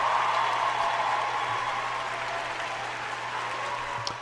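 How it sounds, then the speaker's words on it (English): A moderate round of applause, many hands clapping in an even wash over a low steady hum, holding at the same level for a few seconds. "Give him a round of applause on that one."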